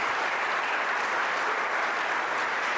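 An audience in a room bursts into steady, dense applause, loud and sustained with no break.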